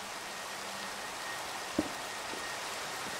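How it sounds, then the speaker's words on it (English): Steady rain hisses evenly throughout in Minecraft, with a single soft knock partway through and no voices. "And it's raining!"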